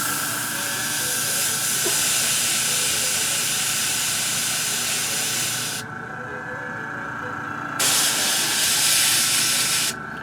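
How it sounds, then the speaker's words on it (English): An airbrush sprays dark paint onto a Sisters of Battle Seraphim miniature plasma gun, a steady close hiss of air that cuts out briefly partway through, then resumes and pauses again near the end. "a little bit of the rest of the gun airbrushed with your darkest color"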